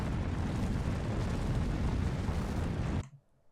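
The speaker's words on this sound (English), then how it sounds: "you just hear the sound of the bomb in the background" Dense roaring bomb blast in the anime Jujutsu Kaisen, a sustained broadband rumble lasting about three seconds before cutting off abruptly to near silence.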